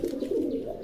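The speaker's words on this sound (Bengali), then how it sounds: "আদরের কবুতর।" A domestic pigeon at a pigeon market gives a brief, close, throaty coo, a low rolling warble lasting under a second with no voices over it.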